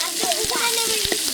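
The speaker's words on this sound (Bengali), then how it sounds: "এবার এইগুলো দিয়ে ভালো করে ভেজে নেবে।" Chopped potato and spice paste frying in oil in a wok for a spicy egg curry, a close, bright sizzle with quick stirring clinks, heard briefly beneath a voice.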